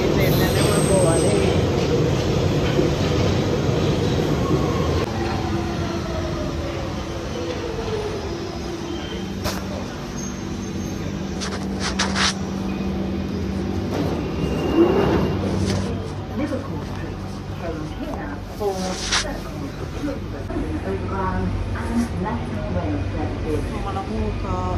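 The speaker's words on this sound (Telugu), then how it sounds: "ఇప్పటికి ఒక ట్రైన్ వస్తుంది. అదే ట్రైన్ మనం ఎక్కాల్సింది." A London train pulls in and keeps running, with a rumbling roll, wheel squeals and clattering rail noise close by, and voices talking over it.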